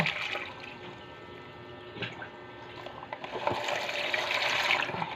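Fish is rinsed under running water in a home kitchen, a steady splashing gush with a few clinks and handling knocks, fairly quiet and close, with no talk.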